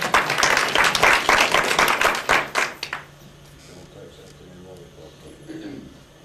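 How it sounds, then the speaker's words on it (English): An audience at a hypnosis show claps loudly for about three seconds, the applause fading quickly into quiet room noise. "Give him a round of applause."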